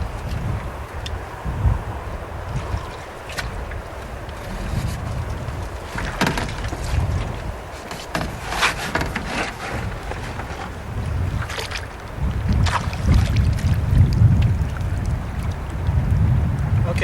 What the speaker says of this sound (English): the wind's blowing the canoe around